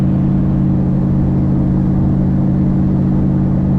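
An old 1955 Buick Roadmaster engine drones steadily while cruising on the road, a loud continuous low hum and whir from inside the car with no change in pitch.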